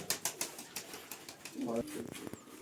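Pigeons burst into flight as they are released, a quick run of wing flaps and rustles close by, with someone talking over them.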